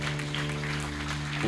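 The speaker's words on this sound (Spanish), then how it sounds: "Dale otro aplauso al Señor." A church congregation claps in steady applause over sustained organ or keyboard tones, the clapping brief and evenly spread.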